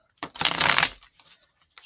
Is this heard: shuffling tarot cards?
yes